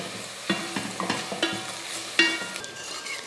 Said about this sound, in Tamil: வெங்காயத்தை வந்து நல்லா கண்ணாடி போல் வதக்கி எடுத்துக்கலாம்